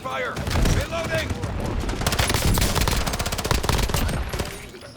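Rapid automatic gunfire in Call of Duty, sustained bursts close and loud with a dense rattling rhythm, game voices calling out underneath.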